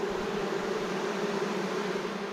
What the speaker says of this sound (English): If you listen to these bees, they're really loud.